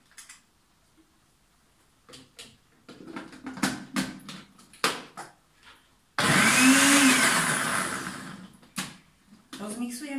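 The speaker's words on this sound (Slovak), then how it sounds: "Dáme do mixéra." A blender purées cooked carrot, boiled in lightly salted sweet water and cooled, for a strawberry smoothie, roaring loud and steady for about two seconds after some clattering, with a brief second burst at the end.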